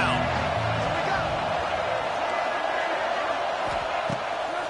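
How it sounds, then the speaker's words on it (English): A college football video game crowd roaring on a 3rd down while backing the defense, a loud, sustained wall of cheering with faint voices and thuds inside the noise. "Decibels rising as the crowd gets behind this defense on 3rd down."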